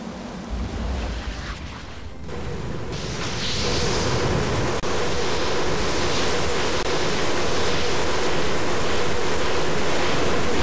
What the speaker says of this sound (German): dann zeigen wir den schönen Tornado